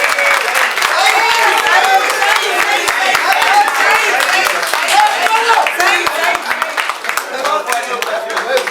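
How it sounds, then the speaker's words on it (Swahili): A crowd claps steadily and densely throughout at the official launch of a pool table in a night club, with voices mixed in under the sustained applause. "Atakapopiga basi makofi wote."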